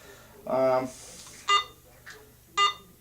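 A Garrett AT Pro metal detector gives two short, clear electronic beeps about a second apart, close by, after a voice speaks briefly.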